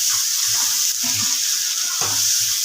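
Egg bhurji, Indian-style scrambled eggs, sizzles steadily in a hot pan with a constant bright hiss, broken by occasional soft stirring scrapes and clinks.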